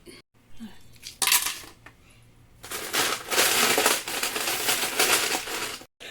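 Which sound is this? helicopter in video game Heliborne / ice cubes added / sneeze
ice cubes added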